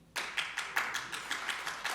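A few audience members clapping at a political speech, a sparse, fairly close burst of about a dozen claps that starts abruptly and continues steadily with no one speaking.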